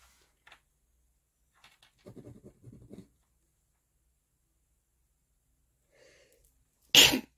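A single loud, sharp human sneeze bursts out near the end, after a stretch of near-silence broken only by faint soft rustling and scratching.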